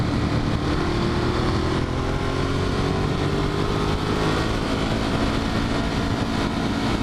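A Ducati Monster 1200 motorcycle holds third gear on the road, its engine a loud, unbroken drone whose pitch rises gradually as revs climb, mixed with heavy wind rush.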